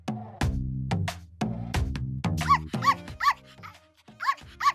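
On a ladies' game show, a woman imitates a puppy barking with a series of rapid yappy vocal barks and squeaky yips, close and loud, several in a row.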